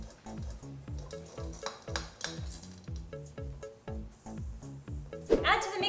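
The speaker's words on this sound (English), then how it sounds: "So I have my trusty whisk." Whisk mixing cake batter of cocoa powder and salt in a large container, steady rhythmic tapping strokes against the bowl, close, ending with a brief louder clatter.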